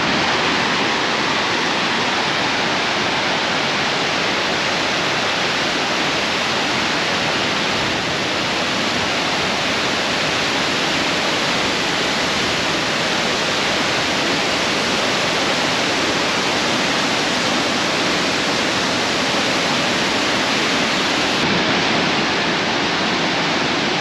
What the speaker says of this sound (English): let's check out these waterfalls